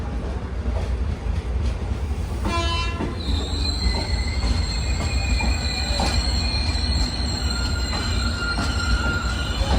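Rajdhani Express hauled by a Lallaguda-shed WP7 locomotive near Mangaluru: a loud, steady rolling rumble with a sharp metallic wheel squeal that rises, then sustained high squealing tones over the running train.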